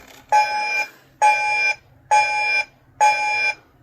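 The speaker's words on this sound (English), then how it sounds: "So that was the red alert" Star Trek movie red alert klaxon sound effect played from a toy starship, four evenly spaced, loud blaring electronic tones, each about half a second long with short gaps, close and without talk.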